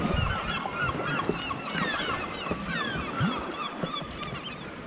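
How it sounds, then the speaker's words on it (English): Seagulls call near the Cardigan Bay coast in Wales, with repeated harsh honking cries overlapping against a background of water and wind, moderately near. "The seagulls don't sound too happy with me though."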